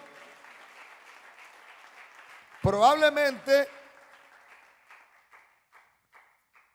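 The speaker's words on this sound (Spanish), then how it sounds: "Le da palmas de alabanza al Señor." Church congregation clapping in praise during a sermon, a short loud burst of claps and voices lasting about a second, rising out of steady preaching and then fading back under continued speech.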